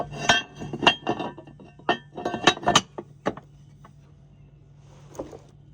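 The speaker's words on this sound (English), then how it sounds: "Now we're going to go ahead and get the grate in place here." Metal KSPEED intake grate for a Kawasaki Ultra 310 being fitted into place, giving a string of sharp metallic clinks and taps that are close and uneven, then a pause before one last faint clink.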